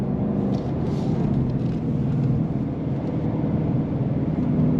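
A 2026 Ford Mustang Dark Horse engine rumbles loud and close during downshifts, a dense low drone with slight swells as the gears drop, and no voices over it.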